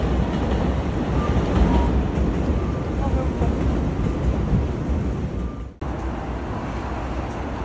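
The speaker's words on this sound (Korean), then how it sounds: "여기 전철 지나가" Commuter train passing by on a street in Osaka, Japan: a steady, loud rumble and rail roar lasting several seconds with faint rhythmic clatter, ending abruptly as the passing ends, under city background noise.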